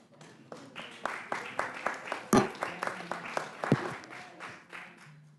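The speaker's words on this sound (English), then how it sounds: "I think that applause indicates performance" Sparse applause in a US House Rules Committee hearing room, a small group clapping in distinct uneven bursts, fairly faint, with a couple of sharper claps standing out near the middle.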